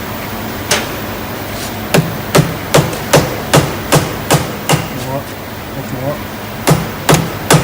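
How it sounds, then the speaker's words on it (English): Hammer tapping a piston on a Muller Werkzeug Gen 2 wheel bearing tool, giving a steady series of sharp, close metallic knocks with a brief pause midway, while a voice speaks briefly. "Just tap the piston up."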